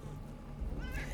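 Cats meow in the video game Underrail, a brief, drawn-out cry over a steady low hum of game ambience.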